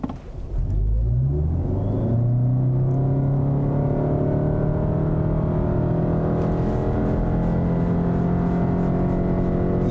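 A 2021 Lexus NX300h hybrid SUV pulls away from a dead stop, its engine drone rising steadily in pitch and holding a loud, continuous hum, heard from inside the cabin with no one speaking.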